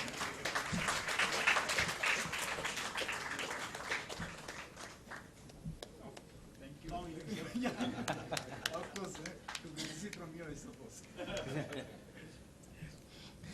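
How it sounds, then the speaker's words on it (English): A management association gathering in Calicut applauds a senior manager called forward, a faint, scattered round of clapping mixed with chuckles and murmured chatter from the crowd, with voices talking through much of it. "Give a round of applause."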